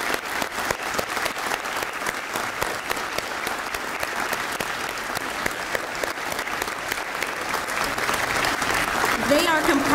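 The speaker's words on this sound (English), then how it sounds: "can we please give a big round of applause" Sustained applause from a crowd at a police department promotion and badge pinning ceremony, steady and dense, with clapping filling the whole stretch and swelling slightly near the end.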